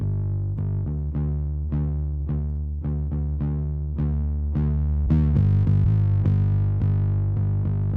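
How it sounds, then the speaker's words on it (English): A heavily distorted bass plays a series of plucked notes, each gritty and buzzing, with a louder, thicker passage near the end, close and alone. "It has this cool raw distortion, simple distortion."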